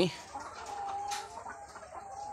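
Hens clucking inside a layer poultry farm in Dhunot, Bogura: soft, close, scattered clucks and throaty calls over a low, steady barn murmur.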